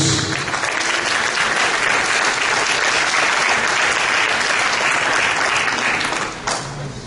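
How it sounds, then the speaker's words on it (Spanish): A church congregation at a Spanish-language sermon breaks into loud, dense, sustained applause that holds steady for several seconds before tapering off, with no one speaking over it. "Dale un aplauso a Jesús."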